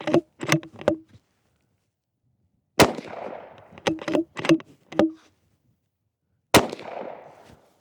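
Unsuppressed bolt-action .223 rifle shots crack out sharply, loud and close, with several quick bursts and two big blasts each trailing off in a short echoing decay, separated by silence.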